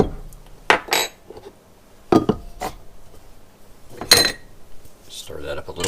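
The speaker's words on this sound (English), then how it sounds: "Stir that up a little bit" A utensil stirs sugar into hot water in a mixing bowl, giving a few distinct clinks and scrapes against the bowl spaced a second or two apart, close and moderately loud, with quiet between.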